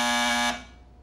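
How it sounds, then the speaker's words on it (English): A cartoon buzzer blares a steady, harsh electronic tone for about half a second, then cuts off and rings away into quiet, with no one talking. "just buzz this buzzer and I'll come running"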